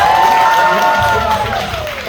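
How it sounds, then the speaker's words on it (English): A stand-up comedy audience at a drag queen comedy show claps and cheers in a loud, dense round of applause, with a voice ringing over it and the crowd noise tapering slightly. "Big round of applause"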